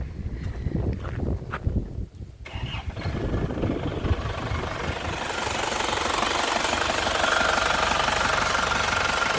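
A 2006 Grand Touring car with a manual gearbox cranks with rough knocking bursts, catches after a couple of seconds and settles into a steady, close idle with no one talking.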